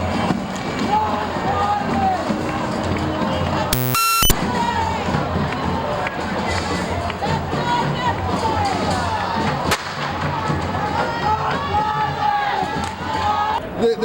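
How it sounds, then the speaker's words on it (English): A protest crowd roars and shouts on a city street as police fire tear gas and rubber bullets, with a sharp crack partway through over constant crowd noise and voices. "The police began to spray tear gas into the crowd and shot rubber bullets"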